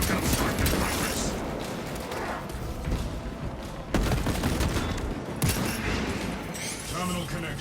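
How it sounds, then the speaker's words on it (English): Servo gun strike in Warhammer 40000: Space Marine 2, a dense, sustained barrage of rapid gunfire and heavy impacts with booming thumps. Loud and continuous throughout, with speech-like voices mixed into the battle noise. "Servo gun strike in progress."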